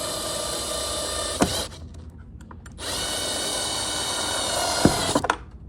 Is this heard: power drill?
yes